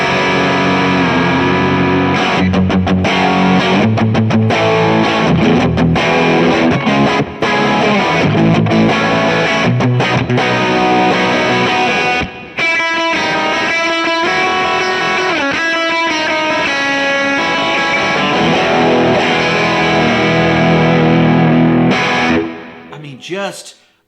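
Electric guitar runs through a vintage Fender Brownface amp cranked into a gritty, distorted tone, with loud chords and riffs sustained for over twenty seconds before stopping abruptly.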